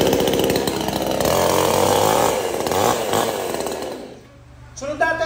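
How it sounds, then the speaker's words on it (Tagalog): An Oxford chainsaw with a 22-inch bar runs loud and close, its buzzing two-stroke engine holding steady before revving down, with a short burst of throttle at the end. "Sinamahan po niya ng Oxford na chainsaw, 22 inches."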